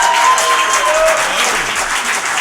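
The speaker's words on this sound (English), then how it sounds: "You can applaud for that." A studio audience at a radio station applauds the band, loud, dense clapping close by that holds steady throughout, with a faint voice briefly audible underneath.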